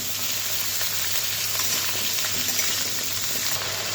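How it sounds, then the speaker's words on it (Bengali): Drumstick pieces frying in a pan, a loud continuous close sizzle with faint scraping from stirring underneath, steady for the whole stretch. "সজনে ডাঁটাগুলো সব দিয়ে দিয়েছি, তখন ভালোভাবে কষিয়ে নিব।"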